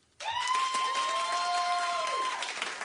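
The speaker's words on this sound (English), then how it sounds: "People in the audience, look, who'd you rather? Clap for Brian." Studio audience at a daytime talk show breaks into sustained clapping and cheering, loud and steady for nearly three seconds, with a couple of sustained tonal sounds riding over the crowd.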